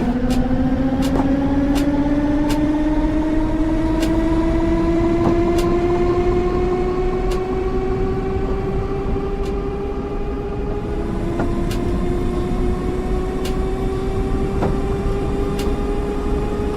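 London Underground train on the East London Line, riding toward New Cross Gate in 1990, with a loud steady rumble from the cab and rising motor whine as it accelerates, plus regular clicks from the rail joints.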